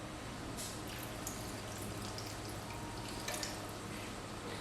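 Water is poured into a pot of simmering callaloo sauce with meat in a Haitian home kitchen. The soft trickle and drip is faint and continuous over low background hiss.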